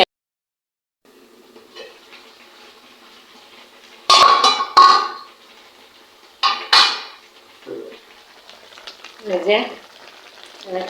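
A cooking pot being stirred with a utensil in a home kitchen, faint sizzling broken by several loud scraping, clanking strokes in irregular bursts, close and alone.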